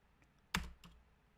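A single burst of computer keyboard keystrokes, one sharp cluster of clicks followed by a fainter second tap, close and isolated in a quiet room.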